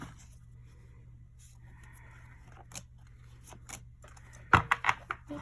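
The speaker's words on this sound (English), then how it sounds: "These are too big for me to shuffle normally." Oversized tarot cards being shuffled by hand, quiet scattered rustles and soft slaps of card stock, ending in a few sharper riffling snaps close by.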